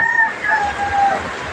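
Roosters crow in drawn-out calls close by, with a few clucks between them, as fighting cocks are being bathed by their owner outdoors.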